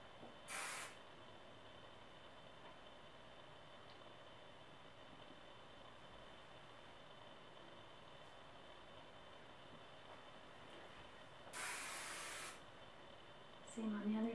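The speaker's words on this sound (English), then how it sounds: "we're going to apply a light mist of hairspray" Hairspray from an aerosol can sprays in two short hissing bursts, one near the start and another longer one later, over a faint steady background hum while hair is being braided.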